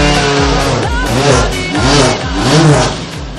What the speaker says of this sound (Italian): Questa è una Ligier con motore Honda 2005 categoria E2B, è una macchina del 2009 con potenza che si aggira intorno ai 250 cavalli.